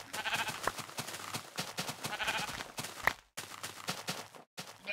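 Several sheep in a video game bleating in quick, overlapping calls, moderately loud, with faint shuffling steps in between.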